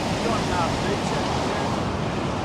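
Waves wash onto Donmouth Beach at the mouth of the River Don near Aberdeen, a steady broad surf roar mixed with wind buffeting the microphone, with no clear talk.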